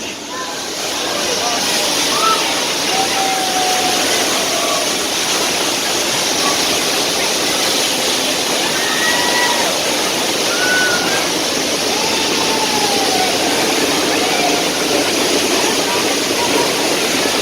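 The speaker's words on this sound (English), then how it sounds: "It looks like a water main broke." Water gushes from a simulated broken water main on a studio backlot tour, a loud, steady rushing roar that persists throughout.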